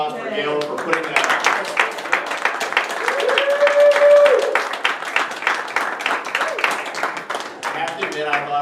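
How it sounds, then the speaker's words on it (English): A debate audience gives a loud round of applause for a speaker, continuous crowded clapping that carries on under voices for several seconds. "One more round of applause for Gail for putting that."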